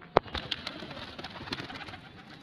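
Breeder pigeons coo softly at a loft, a low murmuring of birds under a sharp click near the start and a steady background hiss.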